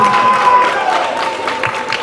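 Birthday party guests clap together in a crowded room, a steady burst of applause with some voices and cheers mixed in, lasting a couple of seconds.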